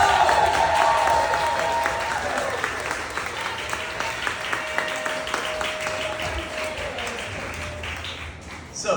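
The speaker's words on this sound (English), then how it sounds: "So let's give him a big" Audience applause swells loud and dense, then slowly tapers over several seconds, a faint held tone lingering beneath the clapping.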